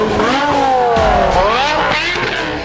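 A car's stock exhaust with the diffuser valve closed gives a loud, close, continuous engine roar whose pitch rises, dips and climbs again as the throttle is worked, with no talking.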